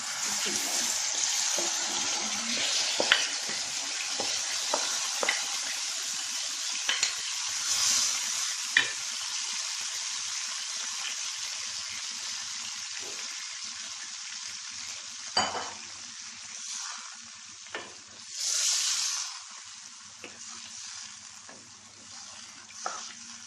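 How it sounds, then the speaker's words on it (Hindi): Marinated chicken for achar gosht sizzles and crackles loudly in hot oil in a pan, with bursts of hissing and stirring scrapes; no speech over it. "अब मैं ये सारा मिक्सचर इसके अंदर डाल रही हूँ।"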